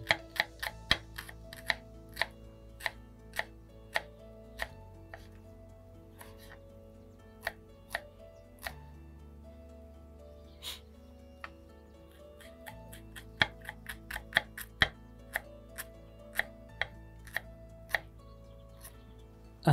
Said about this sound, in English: And then cut the rest of the spring onions and also add them